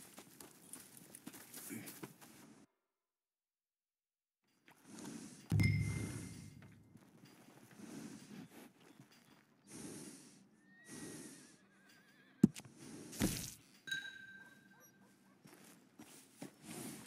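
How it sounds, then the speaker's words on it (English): A horse in the Red Dead Redemption 2 video game whinnies loudly, with hoof clip-clops and a snort or two around it, against a quiet game backdrop broken by a short silence. "And a fine new horse."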